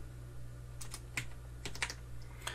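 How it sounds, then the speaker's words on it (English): A computer keyboard is tapped in a short burst of quick, close keystrokes with small pauses, faint over a low steady hum, as a word is typed and entered. "So you just type in a word"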